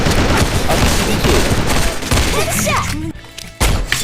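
Rapid rifle fire from the online shooter Sudden Attack, likely an M16, crackles in dense, loud bursts almost without pause, with thuds and impacts mixed in before the shooting briefly cuts out near the end.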